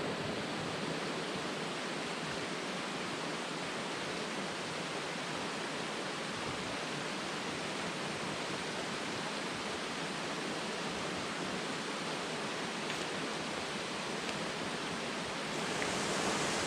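A creek runs beside a campsite after heavy rain, giving off a steady, dense rushing hiss that stays loud and unbroken throughout.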